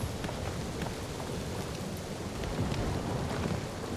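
Steady rain pours in a video game set in the Guardians of the Galaxy world, with low thunder rumbling beneath a dense, even hiss; no one speaks.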